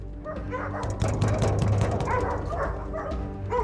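A dog in a house in Kryvyi Rih barks repeatedly behind a closed door, muffled and moderately loud, a steady run of woofs with faint yips over a low indoor hum.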